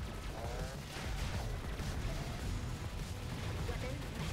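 Cannon shots and explosions from the arcade shooter Assault Android Cactus blur into a dense, constant roar of game noise. The barrage stays loud for the whole stretch, with speech mixed into the din.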